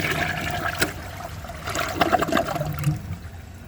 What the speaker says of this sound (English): I might as well give it one last flush before I start filling it with mud